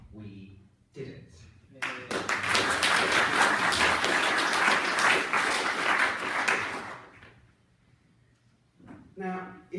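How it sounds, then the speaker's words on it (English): Audience applause at a youth political conference, a sustained burst of clapping lasting about five seconds with cheering, with talk before and after it. "I also think we need a big round of applause for ourselves, because we did it."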